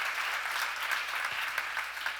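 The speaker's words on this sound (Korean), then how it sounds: "박수로 하나 둘 셋" A church congregation breaks into applause during a sermon, a close, continuous wash of clapping with a few sharper individual claps standing out.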